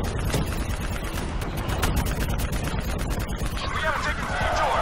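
Dense gunfire fills a Call of Duty: Black Ops III battle, with rapid shots and rattling bursts piling over each other in a loud, chaotic mix, with shouted voices and a rising whoosh near the end.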